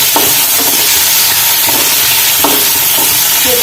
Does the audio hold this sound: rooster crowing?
no